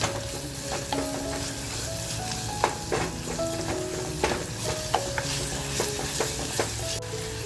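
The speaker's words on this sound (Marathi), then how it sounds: "आपल्याला ना कांदा तर छान परतवत घ्यायचा आहे जास्त परतवायचा नाही आहे कारण आपल्याला कांद्याबरोबरच मटणसुद्धा परतवून घ्यायचं आहे" Onions and mutton sauté in a pan over a slow flame, giving a steady sizzle broken by repeated scraping and clinking stirs of a utensil, heard close with no talking.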